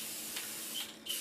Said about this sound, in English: So right now what I'm going to do is spray paint this